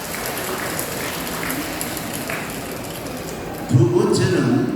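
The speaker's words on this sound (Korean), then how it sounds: "이 박수 한번 해줘야 됩니다" Audience applause in a church-style lecture hall during a Korean political-religious education session, a steady broad wash of clapping throughout, with a voice speaking over it near the end.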